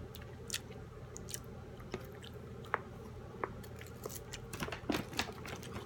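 Someone chewing Johnsonville sweet and smoky maple bacon jerky, with soft, wet, steady mastication close to the mic and occasional sharper bites, quiet overall with no talking.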